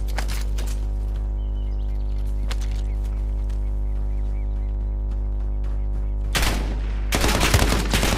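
Video game gunfire sounds over a constant low hum, with scattered distant shots and then sharp, loud bursts of rapid automatic fire near the end.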